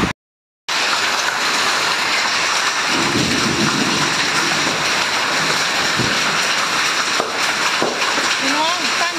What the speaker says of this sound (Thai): This is a big hailstorm